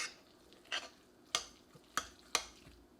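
A spoon stirs honey into warm oil, making four sharp clinks against the bowl at uneven intervals over a quiet background, with no talking.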